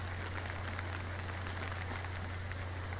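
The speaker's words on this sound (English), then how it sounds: "We're getting a little rain here in Southern California." Soft, steady patter of light rain falling on garden surfaces in Southern California, with a low constant hum underneath and no voices.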